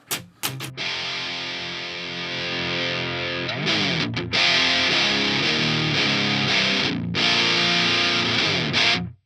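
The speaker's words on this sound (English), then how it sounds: "Let's add something distorted. I think that'll give us the best idea of what's going on. Let's go for the governor" Electric guitar played through a Governor-style drive distortion on a Boss Ampero II Stomp into a real amp, thick sustained distorted chords ringing loud and alone with brief pauses between changes.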